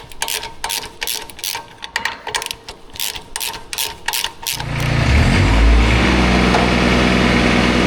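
A MECHMAXX SG24 PTO stump grinder's slip clutch gives a regular series of sharp ratcheting clicks as it is rocked back and forth, then a tractor engine starts and runs loudly and steadily nearby.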